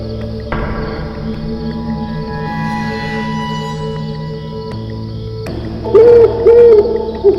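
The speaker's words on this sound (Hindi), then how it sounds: "अचानक एक उल्लू की कर्कश चीख ने सन्नाटे को चीर दिया।" A few short, harsh owl cries ring out near the end over a steady night background of chirping insects.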